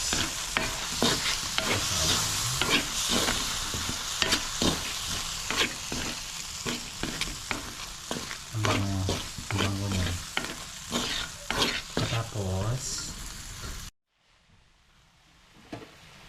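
Sotanghon noodles being stir-fried with bean sprouts in a hot pan, a continuous close sizzle broken by repeated scraping and tossing strokes of the spatula, ending abruptly in near silence.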